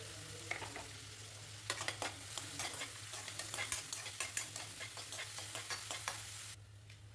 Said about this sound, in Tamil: கூடவே கருவேப்பிலை பச்சை மிளகாய் சேர்த்து நல்லா வதக்கி விட்டுருங்க